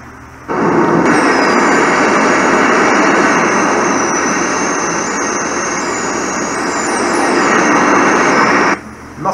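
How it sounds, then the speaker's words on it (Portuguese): Steady, loud jet airliner engine roar from Flight Simulator X while cruising at 30,000 feet en route to Recife, a continuous broadband rush with a faint high whine that holds unbroken for most of the stretch before cutting off near the end. "Nosso avião prossegue com sua rota para Recife, a toda velocidade, a 30 mil pés de altitude"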